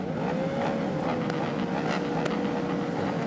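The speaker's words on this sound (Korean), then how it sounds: "엔진 사운드를 올리고 있습니다" Superbikes rev their engines on the starting grid before a standing start at the 2025 Jeonnam GT superbike final, a loud continuous roar with sharp blips of throttle and a rising engine whine over wind noise.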